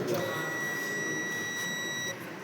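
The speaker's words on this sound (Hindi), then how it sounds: "अब कहीं पे भी अगर नेगेटिव आ रहा होगा तो ये मल्टीमीटर बीप साउंड बजेगा" A multimeter set to continuity gives one steady, unbroken electronic beep lasting about two seconds, close and clear over a faint background hiss.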